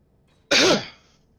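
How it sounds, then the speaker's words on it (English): A single harsh cough bursts out suddenly and dies away over half a second, close and loud against quiet background. "I wish I didn't have a cough like this"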